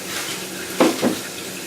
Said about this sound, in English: I'm going to add some cold water, and I have a bunch of ice here,